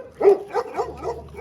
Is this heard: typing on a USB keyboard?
no